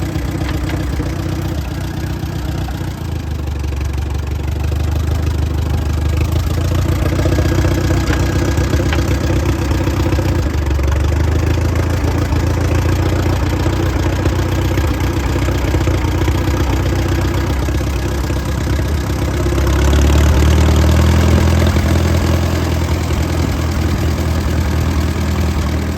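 A 1953 Case DC tractor engine idles steadily with a low, loping rumble and faint knocking, close and unbroken, briefly swelling louder near the end.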